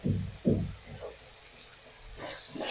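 Chili powder and chopped tomato sizzle softly in hot oil while being stirred for a capsicum fry, with a couple of louder scraping bursts early, then a quieter, steady hiss.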